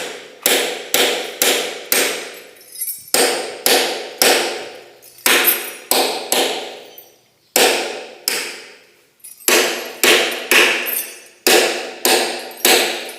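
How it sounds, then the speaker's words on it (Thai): Sharp, ringing hammer taps on a metal punch marking an aluminium sheet for Shan-style aluminium craft, struck in quick bursts of three to five blows with short pauses between, close and loud with no talk. "เอาตอกเอาเลย ตอกนะครับ ตอกเป็นรอยครับ"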